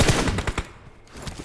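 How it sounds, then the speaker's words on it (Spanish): Automatic gunfire in the mobile battle royale game PUBG Mobile: rapid bursts of close, loud shots crackle in quick succession, dip briefly, then resume with more rattling rounds, with no talking. "Sumo está tirando ahí porque sabe que le pueden llegar."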